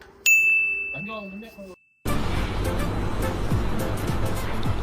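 A notification bell icon sound effect gives a single clear ding that rings on and fades, followed by a brief tonal flourish, then cuts to loud, steady outdoor noise.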